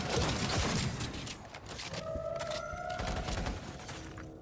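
Heavy gunfire from the Cyberpunk 2077 video game, with dense bursts of rapid shots and impacts striking the player, loud and continuous, with a brief two-tone electronic alert tone sounding in the middle.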